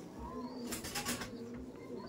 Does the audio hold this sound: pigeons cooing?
yes